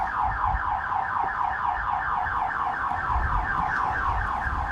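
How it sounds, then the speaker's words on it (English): A car alarm blares continuously with a rapid warbling, cycling tone, loud and steady throughout with faint low rumble underneath, on a street outside a body repair shop among warehouses. "Excuse the car alarm going off."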